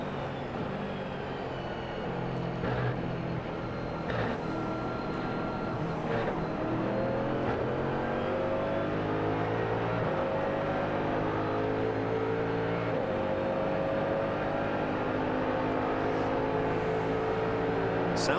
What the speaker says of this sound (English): the engine sounds all right. It's a 500 horsepower Roush Yates V8.